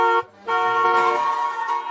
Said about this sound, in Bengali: গাড়ির হর্ন বাজছে মনে হয়